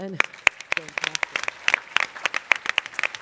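Conference audience breaks into applause, a dense run of sharp, close hand claps that keeps going steadily throughout, with a brief voice at the very start.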